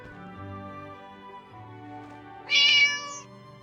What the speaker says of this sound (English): Thanks for the meow gamer.